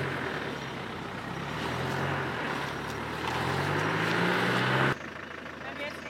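An offroad vehicle stuck on a rough track in Cameroon, its rear right wheel spinning as the engine revs steadily higher, with a loud, continuous mechanical roar that cuts off abruptly near the end while people talk over it.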